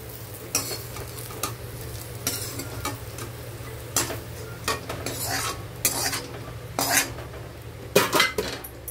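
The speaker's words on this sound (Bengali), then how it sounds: "কুকারের মধ্যে এটা আমি তুলে নিলাম" A spoon scrapes and clatters against a wok, transferring cooked jackfruit with coconut into a pressure cooker: a series of sharp, close metallic scrapes and knocks over a low background hum.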